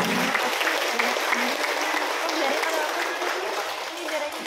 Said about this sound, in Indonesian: mari kita berikan tepuk tangan yang meriah kepada anak-anak kita yang luar biasa.